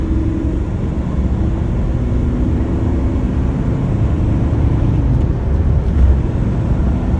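A Mercedes Sprinter W906 van with a 2.7 OM647 diesel pulls hard in fourth gear, a steady low engine drone with rising tone and constant road roar filling the cabin, no voices.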